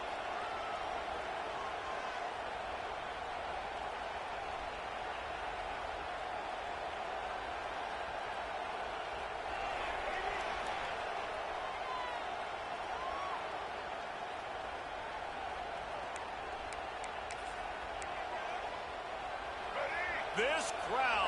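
Stadium crowd in the NCAA 26 college football video game roars steadily and loudly for over twenty seconds, a dense, constant wall of noise with a commentator talking over it.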